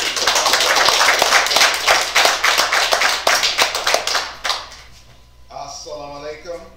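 An audience at a news conference breaks into applause, a dense burst of close clapping for about four seconds that thins into scattered claps before a voice begins speaking.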